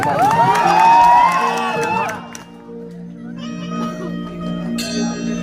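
Crowd cheering and whooping at an outdoor Bhojpuri Holi stage show, loud and dense for about two seconds, then easing into murmur with background music and a brief high ring near the end.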